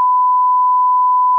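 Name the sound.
censor beep sound over swear words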